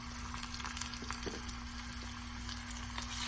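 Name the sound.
tempering shallot, curry leaves, chillies and fenugreek sizzling in oil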